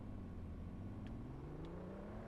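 Engine hum from cars in a Roblox racing game, a steady whirring drone that slowly rises in pitch as a car accelerates, with faint brief clicks over it and no voices.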